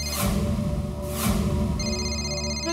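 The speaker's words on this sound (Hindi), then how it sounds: "अरे घंटी बज रही है, फोन क्यों नहीं उठा रहे?" A telephone rings in two bursts, a trilling bell repeating close by over a low background hum.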